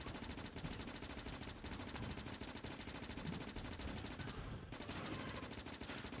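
Dense continuous automatic gunfire in the game Factorio, a steady rattling stream of rapid shots with no pauses, fairly faint overall and alone without talk; grenade blasts are not distinct.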